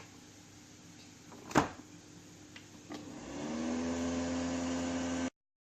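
A Tefal air fryer switched on for frying chicken, a click, then a steady whirring fan hum with a low tonal drone that settles in after a few seconds and continues evenly until it cuts off.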